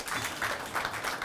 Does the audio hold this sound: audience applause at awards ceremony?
yes